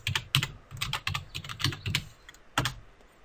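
Keys on a computer keyboard are tapped in a quick, uneven series of soft clicks, close and fairly quiet, with short pauses between bursts.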